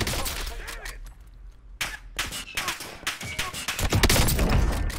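Sniper and other gunfire ring out in Warzone, sharp cracks and bursts of rapid shots, with a denser volley building toward the end amid scattered impacts, while voices are faintly mixed under the shooting.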